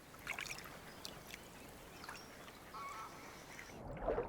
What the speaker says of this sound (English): The adaptable Eurasian coot is almost ubiquitous in reservoirs.